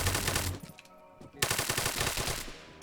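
Bursts of LMG machine gun fire in an SCP multiplayer shooter, a dense rapid rattle that drops out briefly partway through before another sustained loud volley resumes.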